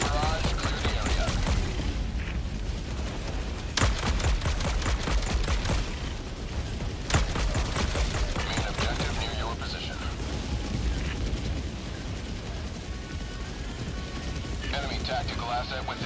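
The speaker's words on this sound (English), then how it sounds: "Firing orbital barrage, clear the area." Orbital barrage explosions rain down in the Helldivers 2 video game, a dense, continuous rumble of blasts and gunfire-like bursts with a couple of sharper loud impacts, sustained throughout amid game effects and voices.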